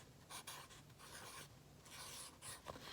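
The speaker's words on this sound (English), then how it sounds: "So I'm going to write that name over here." A pencil scratches across paper writing a name, with quick, close, quiet strokes coming in short bursts.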